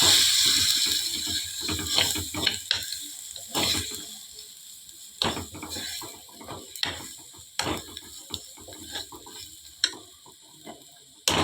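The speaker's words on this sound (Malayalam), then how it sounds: "ഇത് നന്നായി ഇളക്കാം." Chilli, coriander and turmeric powders are stirred into sardine curry in a pan over a low flame, giving repeated close scraping and clinking strokes with faint sizzling between them, no voices.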